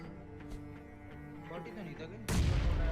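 A grenade detonates in a battle royale shooter, a sudden loud blast cutting in over a steady bed of game sound and background noise.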